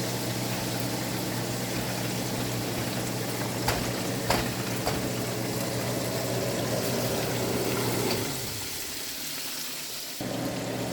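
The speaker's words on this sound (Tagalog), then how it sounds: "magpaprito naman po tayo ito ng fried chicken" Pieces of overnight-marinated fried chicken frying in hot oil, giving a loud, continuous, close sizzle with a few sharp pops. The hiss drops noticeably quieter partway through.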